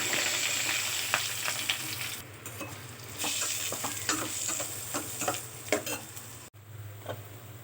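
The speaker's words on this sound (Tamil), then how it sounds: "ஃபஸ்ட்டு கடுகு போட்டுக்கோங்க. அப்புறம் கொஞ்சோண்டு கடலைப்பருப்பு, கொஞ்சோண்டு உளுத்தம் பருப்பு, கொஞ்சமாக ஜீரகம், அப்புறம் வெங்காயம்," Mustard seeds, chana dal, urad dal, cumin and onion fry in hot oil for tomato thokku, a constant close sizzle broken by crackles and the scrape of stirring.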